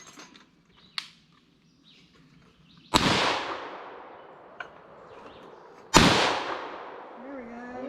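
Two loud, sharp gunshots from an FN PS90 bullpup rifle fired outdoors, a few seconds apart, each with a long ringing decay, plus a fainter crack earlier and quiet background noise between shots.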